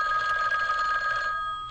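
A telephone ringing in the horror video game Babysitter Bloodbath, a bright, continuous electronic trill at a steady pitch that sounds close and loud and breaks off near the end.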